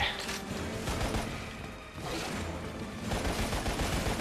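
Gunfire in Lost Planet: Extreme Condition, a dense, continuous rattle of shots and mechanical clatter filling the scene with a brief lull midway, loud and steady with game effects around it.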